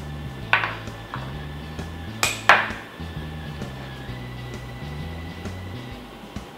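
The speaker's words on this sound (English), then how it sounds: "Just stir them to combine" Flour, baking soda, baking powder, salt and spices being stirred in a mixing bowl: a soft repeated scraping rhythm with a few sharp clinks of the utensil against the bowl.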